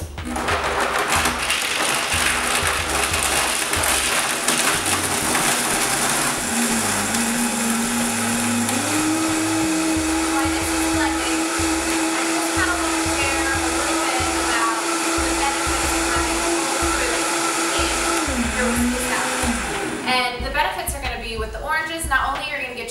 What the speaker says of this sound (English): So on the Vitamix, you're going to start it on the lowest variable setting, and then you're going to slowly work its way up all the way to full speed.